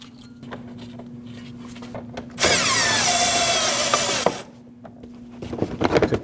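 A power tool drives a 7mm bolt into a 2014-2023 Jeep Cherokee front inner fender liner in one steady, loud whirring burst lasting about two seconds, with quieter handling clatter before and after.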